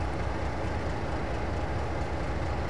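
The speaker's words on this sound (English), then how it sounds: "I do quite enjoy being a passenger on a steam train." A steam train rolls along steadily in Train Simulator 2013, a dense, continuous rumble of wheels and carriage noise at an even level with no talking.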